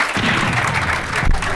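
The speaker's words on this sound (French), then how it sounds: "Les amis, applaudissez pour Bezi" An audience applauds at a live event, a dense, loud burst of clapping that keeps going throughout.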